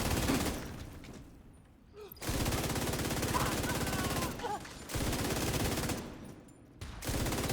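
Video-game gunfire shooting down enemies comes in several sustained automatic bursts, separated by brief quieter gaps, loud and close, with a voice faintly present in the background.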